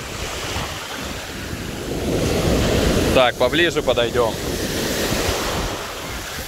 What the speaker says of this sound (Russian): волна идет, раз. Волна наваливает, наваливает.